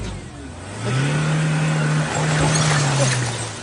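A car engine revs up close, a low droning hum rising and holding for a couple of seconds, dipping, then revving again before easing off, with no talking.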